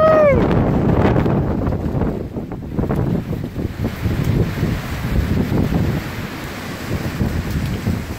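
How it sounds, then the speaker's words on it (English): Strong wind roars across the microphone in heavy buffeting gusts, a broad rumbling rush that surges and eases without letup, with no one speaking. "Yeah, that's one of our bigger gusts right now."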